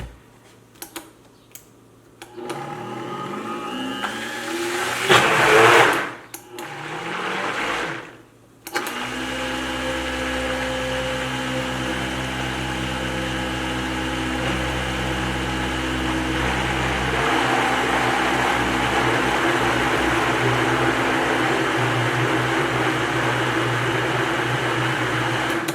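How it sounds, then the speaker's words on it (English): A blender whirs through homemade dog food: after a few brief pulses and stops, it settles into a steady, fairly loud motor drone that continues alone to the end. "let's go ahead and blend this here real quick"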